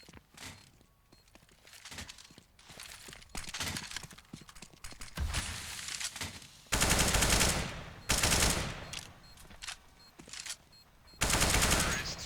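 Rapid automatic rifle sprays in a Counter-Strike match on the Train map, with loud bursts of gunfire and clattering shots that grow denser and harsher toward the end, alternating with quieter stretches of game sound.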